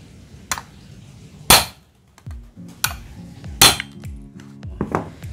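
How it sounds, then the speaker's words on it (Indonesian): A hammer strikes a tool set on a valve spring cap to knock the valve out of a Vega motorcycle cylinder head. About five sharp metallic clanks ring out close by, with a quiet workshop between the blows. "Lalu dipukul pakai palu."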